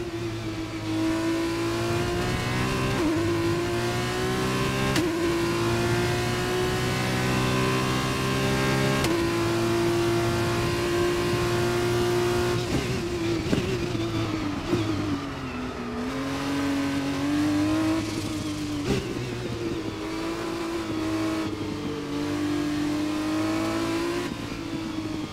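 A Formula 1 race car engine in the F1 2021 racing game, running with a front-left tyre puncture, holds a loud, continuous high-revving drone that shifts pitch with gear changes and rises in revs, with no talk over it.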